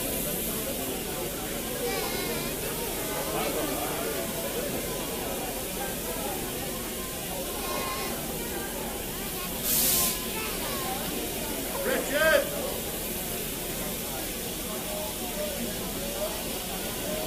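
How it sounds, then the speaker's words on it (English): A steam locomotive in timetabled service on an English line runs steadily at close range, a continuous broadband hiss and rumble with brief louder steam bursts near the middle and toward the end; faint voices murmur in the background. "just likes the sound of this steam engine"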